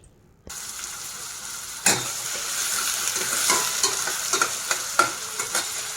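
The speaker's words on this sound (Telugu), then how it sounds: "ఇప్పుడు ఉల్లిపాయలు వేపుకుందామండి" Sliced onions sizzle steadily in hot oil in a pan for a fish and brinjal curry, with scattered sharp crackles and stirring scrapes throughout, close and fairly loud.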